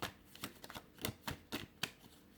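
Tarot cards being shuffled by hand, a run of soft, riffling flicks and slaps in an uneven rhythm, quiet and close with no talking.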